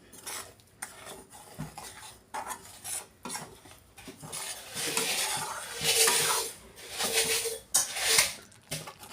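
Fenugreek seeds dry-roasting in a pan while being stirred with a metal spoon, giving repeated scraping and clinking strokes that grow louder and busier midway, close up with no talking.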